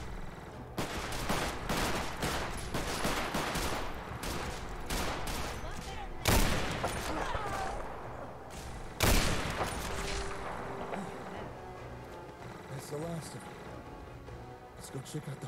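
Rapid bursts of gunfire in the video game Magnum Opus, dense crackling volleys with a couple of louder single shots, over a quiet game backdrop while a voice talks.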